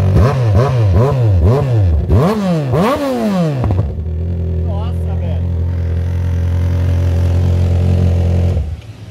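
A Yamaha XJ6 motorcycle engine revs sharply several times in quick rising bursts, then settles into a steady loud idle before cutting off; a voice speaks briefly.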